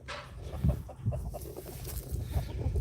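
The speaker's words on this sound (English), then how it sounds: "I'll go ahead and I'll show you this chicken coop" Chickens clucking softly inside a chicken coop, a steady low murmur of several birds with a few sharper clucks close by.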